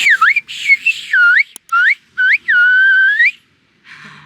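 Silbo Gomero whistled language: a series of sharp, modulated whistles rises and falls in phrases, clear and close with short gaps between them.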